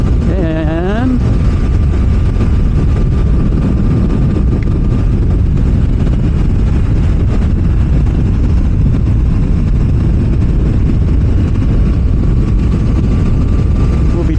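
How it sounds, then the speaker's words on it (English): A Suzuki GSXR motorcycle engine growls steadily as the rider slows toward 50 km/h and clicks down into fifth and then fourth gear. A brief rising rev opens the loud, continuous, close rumble. "You hear that little growl noise like rumma."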